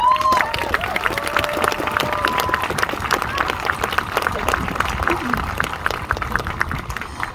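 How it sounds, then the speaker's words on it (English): A crowd at an outdoor peace vigil for Palestine in Wellington applauds a speaker named Samira with steady, dense clapping that runs the whole stretch, while voices and some tonal sounds carry over it. "please give a round of applause for Samira"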